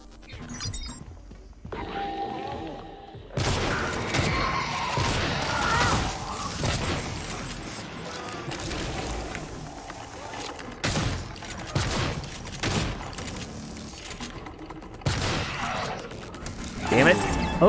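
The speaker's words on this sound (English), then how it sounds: "Shotgun time." Shotgun blasts in the video game Prey, several loud, sharp bursts of gunfire with mechanical clatter and crashes between them, in irregular rhythm with gaps.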